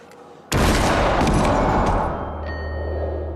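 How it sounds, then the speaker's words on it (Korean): A stolen gun fires in a horror movie about a demonic clown: one sudden, loud, booming shot that hangs on as a long, heavy, reverberant roar, then tails off into a lower rumble with a thin ringing tone. "빼앗은 총에 방아쇠가 당겨지는 소리."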